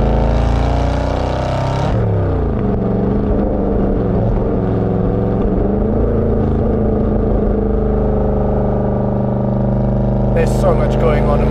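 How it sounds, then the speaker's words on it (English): Aston Martin Vantage GT8 with a naturally aspirated 4.7 liter engine roars loudly nearby, revving up and down through swooping pitch changes, with a person talking excitedly over the engine. "Wow, Aston Martin with the GT8."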